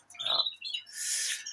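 Canaries and a greenfinch in a large aviary give short bright chirps and a brief higher twittering trill, close and clear with no talking.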